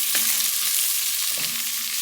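Flour being stirred into a sizzling lobster bisque base in a pot, a steady broadband frying hiss with two brief scraping stir strokes, close and fairly loud, no talking.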